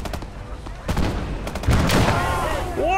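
Dense gunfire in a hedgerow war video game, with a rapid volley of shots building into sustained heavy firing and a loud close burst near the end.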